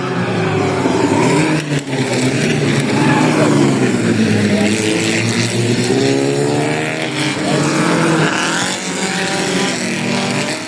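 Race cars fight a last-lap battle at Zwartkops raceway, their engines screaming loud and steady in a dense, continuous roar with rising and falling pitch as they go by, and faint commentary buried underneath.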